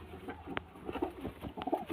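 Pigeons in a breeding loft, a hen sitting on her eggs among them, give soft, low coos in short repeated bursts, close and fairly quiet, with no voices.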